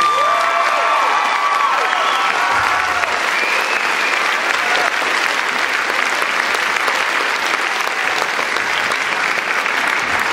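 Loud, sustained applause from a high school audience after a Les Misérables performance, a continuous roar of many hands clapping with faint cheers mixed in, filling the hall throughout.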